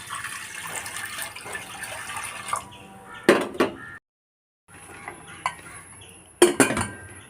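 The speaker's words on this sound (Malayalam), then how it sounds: "ഇനി പരിപ്പ് വേവാനായിട്ട് ആവശ്യത്തിനുള്ള വെള്ളം ഒഴിച്ചു കൊടുക്കാം." Water is poured into a pressure cooker holding lentils in a home kitchen, amid light metallic clinks and clatter of the pot and utensils, with a brief silent pause in between.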